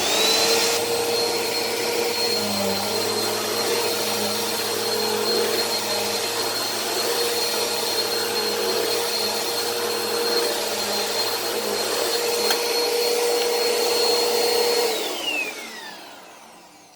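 A reconditioned upright vacuum cleaner with its brush roll spinning gives a steady, loud motor whine with a rumbling undertone, then winds down and fades out in the final seconds.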